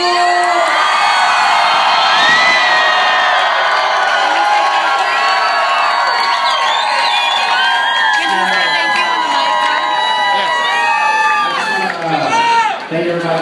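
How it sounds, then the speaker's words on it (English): A loud crowd cheers, whoops and screams at a live event, a dense continuous roar of many voices with high shrieks rising throughout and dipping briefly near the end. "I want y'all to scream to the top of your lungs."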